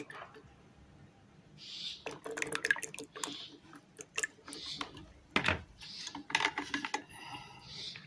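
Water drained from okra soaked for an hour is strained through a sieve for okra sherbet, heard as quiet, irregular drips, small splashes and wet clicks, with one louder splash near the middle and faint recurring hissy chirps behind.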